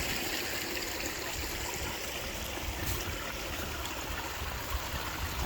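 Clear creek water flowing along a forest trail, a steady close rushing and trickling wash that holds evenly throughout with no voices.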